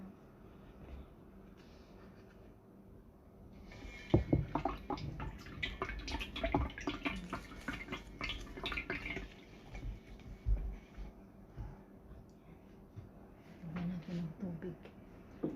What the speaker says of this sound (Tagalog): babad natin siya for 10 minutes